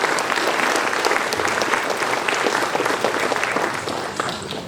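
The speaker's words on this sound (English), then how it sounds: "I think they deserve a great round of applause for making you reach here" A hall audience at a college course inauguration claps continuously for a few seconds, loud and dense, tapering slightly at the end.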